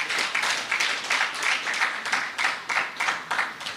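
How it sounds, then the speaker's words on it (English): Audience applause at a youth awards ceremony, several bursts of dense clapping rising and falling in a rhythmic pulse, fairly close and without talk. "Round of applause."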